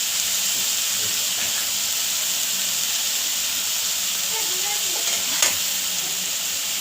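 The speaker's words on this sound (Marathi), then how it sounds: "पुन्हा भाजी हलवून घ्यायची" Cabbage bhaji sizzles steadily in a hot pan while it is stirred, a constant close frying hiss with one brief scrape of the spoon near the end.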